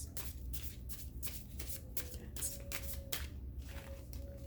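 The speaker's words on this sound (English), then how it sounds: "Nope, that's just a bad shuffle" Tarot cards shuffled by hand in a repeated series of crisp riffling bursts, with a faint steady tone running underneath and a low hum in the background.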